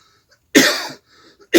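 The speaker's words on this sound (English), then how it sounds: "Sorry for my coughing." A person coughs twice, close and loud: one harsh cough of about half a second, a short quiet gap, then a second cough starting, in an otherwise silent room.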